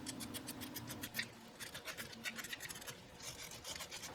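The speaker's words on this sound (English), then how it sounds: "Clean the socket with a metal brush." A metal brush scrubs the bulb socket of a Subaru Outback center tail light in quick, raspy back-and-forth strokes, close up and fairly quiet, with no talking.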